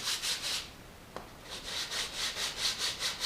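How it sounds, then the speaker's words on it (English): Rhythmic back-and-forth sanding strokes as stone edges are sanded on a flat sanding block, a raspy scratch repeating steadily up close, with a brief pause and a small knock midway. "the reason why I'm using the flat sanding block is to maintain the squareness of the edges"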